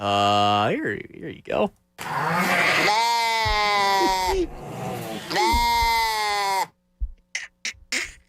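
Loud, drawn-out bleats, two or three long wavering cries up close, followed by a short spoken line and some brief knocks.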